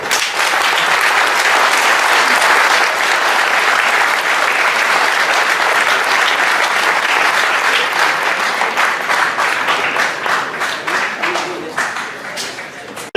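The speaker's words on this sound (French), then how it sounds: "je vais vous demander de les applaudir très fort" Loud, sustained applause from a crowd at a 2017 tournament in Paris, dense clapping that continues steadily before thinning out toward the end.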